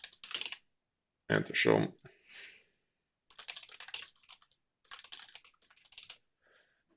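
Someone types a username on a computer keyboard, with short bursts of quick key clicks separated by pauses, close and fairly quiet, while a person speaks briefly over part of it.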